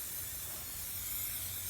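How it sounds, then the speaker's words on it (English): A soft, even hiss of silicone mould-release spray coating an HDPE cookie-man mould, one continuous faint burst lasting under two seconds. "This is the silicone spray. I'm using this as the mould release."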